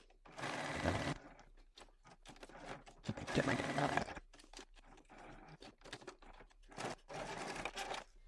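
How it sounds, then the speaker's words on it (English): A sewing machine stitching fabric for a bucket bag runs in three bursts of rapid mechanical stitching, each a couple of seconds long, separated by quiet pauses with small handling noises. "we're going to head to our sewing machine, and we're going to sew around that rectangle."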